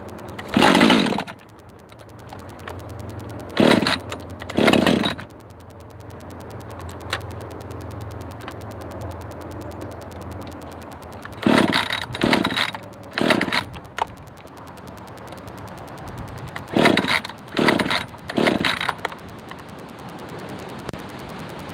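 A Husqvarna chainsaw idles low and steady, broken by repeated sharp, loud revving bursts that come singly and in quick clusters of two or three.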